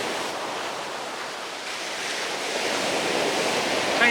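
Surf washes steadily onto the shingle of Hyde Beach on Chesil Beach, a broad continuous hiss and rumble of breaking waves that swells slightly toward the end, with some wind buffeting.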